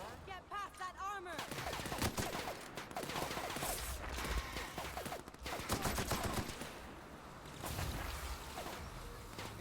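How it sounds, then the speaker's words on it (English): Rapid gunfire in The Outer Worlds video game as an armored enemy charges, bursts of shots layered over game noise, with a voice talking at times over the fairly quiet mix. "I guess I'm shooting it while it's fucking charging"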